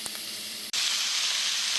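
Onions and squash sizzle in bacon grease with salt and pepper in a pan, a steady, close hiss of frying that briefly cuts out and then returns slightly brighter, with no talk.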